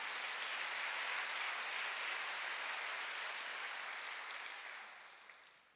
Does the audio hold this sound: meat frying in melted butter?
no